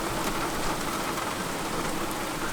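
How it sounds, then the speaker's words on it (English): Dense, heavy rain pours steadily, a thick hiss of drops pounding a surface without pause. "And there's the rain!"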